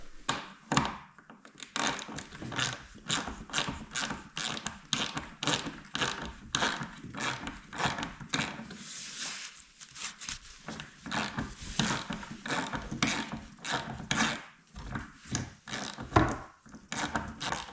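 Bolts being loosened and undone during renovation of a 128-year-old log cabin: a steady run of sharp wooden taps and knocks, evenly spaced and fairly close, continuing throughout with no talking.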